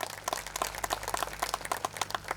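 Audience applause at a resort launch event in Dona Paula, Goa, a steady patter of many hands clapping at moderate level through the whole stretch, with no voices over it.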